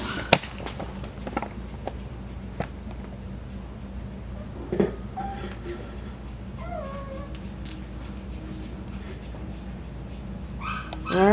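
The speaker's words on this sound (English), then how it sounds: "there you have Isha and Kaley's puppies, 7 weeks old" Seven-week-old Coton puppies play in a group, giving faint high yips and whimpers scattered over soft rustling and thumps, with brief human voice sounds in the background.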